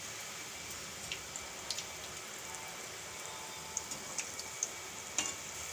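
Potato and gram flour snack pieces sizzle steadily in hot oil, a soft continuous crackle with scattered sharper pops, alone and fairly faint.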